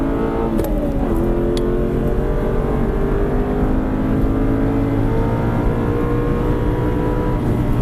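An Aston Martin V8 Vantage accelerating hard out of a corner at Silverstone circuit, the engine note climbing steadily and loud from inside the car, with a brief shift and renewed rise, no talk.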